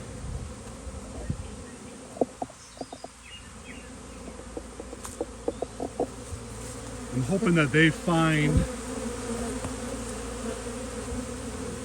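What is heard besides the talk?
swarm of honey bees buzzing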